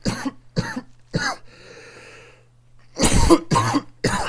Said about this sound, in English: apologise profusely for starting this episode off coughing